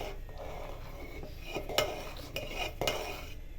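A spoon stirs a kulfi mixture flavoured with cardamom powder and custard powder in a metal pot, giving a few soft scraping clinks at an irregular pace, with no talk over it.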